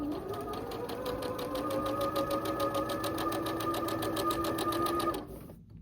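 A sewing machine runs a steady, fast stitch along a quilt block seam for about five seconds with a rapid even needle rhythm and a motor whine, then stops abruptly.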